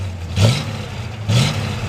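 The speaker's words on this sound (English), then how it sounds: "I'll give it a little rev and see how it sounds like." Two quick blips of the throttle rev a 1968 Chevrolet C10 pickup engine, each rising briefly above a steady close idle and settling back down, with no talking.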